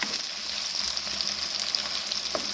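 Potatoes with chopped green chilies fry in a covered pan, giving a steady close sizzle with bright crackling hiss and scattered pops, no voices.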